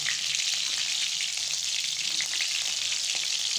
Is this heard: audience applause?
no